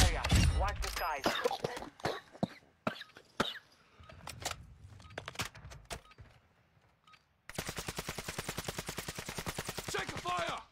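Gunfire in the Call of Duty Warzone 2.0 video game: scattered sharp single shots early on, then a sustained rapid automatic burst toward the end, with some voice sounds mixed in.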